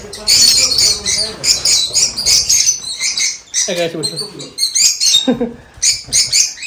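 Lovebirds at a breeding farm squawking and chirping close by in dense, rapid bursts, with brief speech from a person mixed in.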